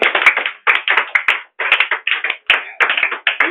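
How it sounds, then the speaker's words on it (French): A church congregation claps in acclamation, with sharp, close bursts of clapping in short rhythmic groups separated by brief pauses. "On acclame le Seigneur Jésus"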